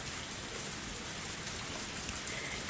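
Steady rain falls through a night scene in the video game Higurashi When They Cry, an even, dense hiss of drops hitting the ground with no talking over it.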